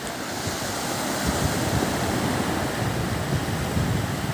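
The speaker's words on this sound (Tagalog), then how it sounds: "Sa alon yun." Sea waves roll in along the Zambales shore, a constant close surf roar that swells slightly midway and keeps going without pause, with no one talking.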